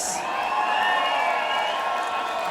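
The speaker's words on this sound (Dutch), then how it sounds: "mag ik nog één keer een heel groot applaus voor Alicia en de dames." A large indoor audience at a dance group's finale show applauds and cheers loudly and steadily, a dense wash of clapping with scattered whoops that holds for the whole stretch.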